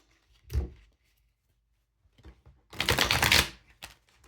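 Tarot cards are shuffled by hand, with a brief riffle, then a pause, then a louder, longer burst of flapping, fluttering card noise up close, alone and without talk.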